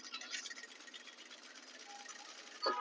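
A sewing machine stitches net onto a saree pallu at a 2.5 stitch setting, making a faint, continuous mechanical whir with a small bump near the end.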